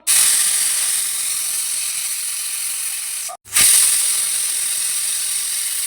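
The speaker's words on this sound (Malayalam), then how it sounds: "ഇനി ഇത് നമുക്ക് ഒരു കുക്കറിനകത്തോട്ട് ഇട്ട് കൊടുക്കാവേ അതിലേക്ക് കുറച്ച് ഞാൻ ഉപ്പും വെള്ളവും ചേർത്ത് കൊടുക്കുന്നുണ്ട് കേട്ടോ ഇനി നമുക്കതൊന്ന് വേവിച്ചെടുക്കാവേ" A pressure cooker boiling boti in salted water lets out a loud, continuous hiss of escaping steam that cuts off for a moment and then bursts back at full strength.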